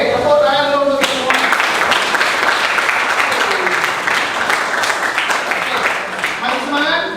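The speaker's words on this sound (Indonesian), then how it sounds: "Oke, tepuk tangan dulu untuk semua." Classroom applause from students, a dense, loud burst of clapping that carries on for several seconds, with voices heard at the start and end.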